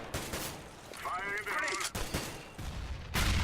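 Counter-Strike: Global Offensive gunfire in a match replay, a rapid burst of shots followed by a few more cracks, with a voice talking over them.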